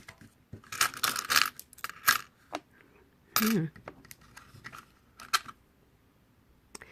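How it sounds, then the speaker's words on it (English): Coins from a hobby collection being handled and sorted, giving bright metallic clinks and rattling bursts in uneven clusters, close up, with quiet gaps between handfuls. "of my organization of all of these lovely coins"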